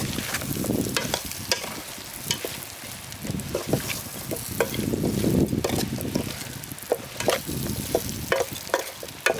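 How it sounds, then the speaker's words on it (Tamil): Pallipalayam chicken with cut coconut being stirred in a frying pan, a steady sizzle with repeated scraping stirs through nine seconds, close and moderately loud, no talking. "தேங்காய் சேர்த்து நல்லா கலந்து விட்டோம்."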